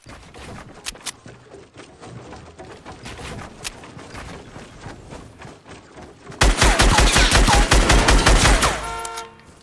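An SMG in Fortnite Battle Royale fires scattered bursts early, then erupts into a loud, sustained rapid stream of gunfire over the last few seconds, tapering off into quick clicks.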